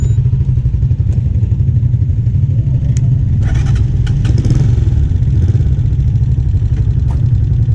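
A motorcycle engine hums steadily at low pitch while the rider takes a curve during a learner riding practice, with occasional clatter and faint background noise over the continuous drone.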